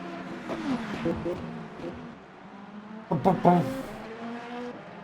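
A hypercar engine in the Le Mans Ultimate racing game at Fuji revving and blipping through quick downshifts, with the pitch dropping in rapid steps, mixed with engine drone and some talk.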